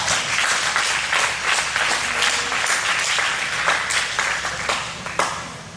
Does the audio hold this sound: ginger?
no